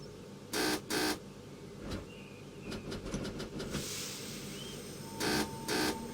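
Two short buzzer tones sound in a train cab in the Open BVE simulator, each a quick double burst, heard twice over a quiet hiss with faint clicks between.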